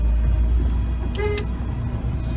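A boat horn on a 2008 Azure 238, sounded from the helm switch panel: one short blast under a low steady rumble.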